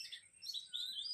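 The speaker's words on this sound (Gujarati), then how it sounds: "બે પક્ષી કેવું બોલી રહ્યા છે" Two birds call outdoors in a village, thin high chirps and whistled notes trading back and forth, faint and fairly distant, with no talking.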